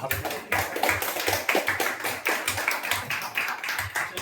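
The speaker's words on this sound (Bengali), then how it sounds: "হাততালি দাও।" Group of people clapping hands in applause at a placement event, in a steady rhythmic beat of roughly two claps per second over a room's broad background murmur.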